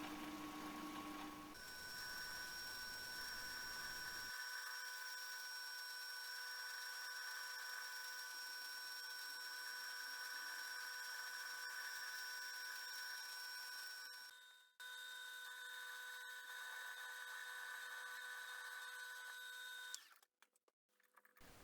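A steady high-pitched whine from a drill running continuously, boring a 1.5mm hole through a small brass nozzle, with a brief interruption partway and a cut-off near the end.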